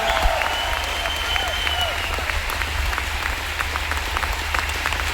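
A large crowd applauding steadily, dense continuous clapping throughout, with a voice briefly audible over it at the start.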